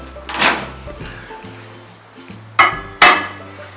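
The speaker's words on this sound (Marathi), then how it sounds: "आता आपण तयार बॅटर ओव्हनमध्ये ठेवून घेऊ" Cake batter in a pan goes into a convection oven, a series of hollow metallic thunks and clanks as the oven door and rack are handled, with three distinct knocks spread over a few seconds.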